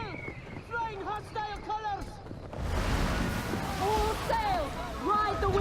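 Pirate sloop of war in a video game fires long-ranged mortars and long 9 cannons, heavy booming blasts rolling into a loud sustained rumble, with shouted voices and pitched cries layered over the barrage.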